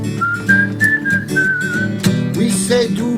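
Clear, melodic whistling by a person out walking on a spring day, a steady run of sustained, wavering notes with music or other voices softly underneath.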